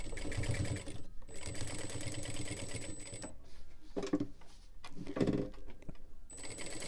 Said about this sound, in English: I'm going to finish my sewing on both sides